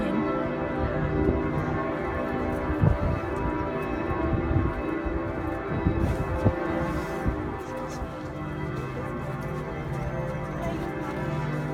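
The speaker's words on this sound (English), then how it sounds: "Bell started ringing right when we got here." Church bell ringing in Giotto's bell tower beside Florence Cathedral, heard from the top of the tower as a steady, sustained metallic tolling with layered resonant overtones that continues through the whole stretch.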